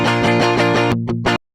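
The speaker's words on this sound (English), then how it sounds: "So I'm thinking maybe a couple of muted hits before it goes into what we have here." Muted electric guitar power-chord hits from a sample pack, distorted and chugging in a tight rapid pattern, ending with a couple of separated stabs before cutting to silence.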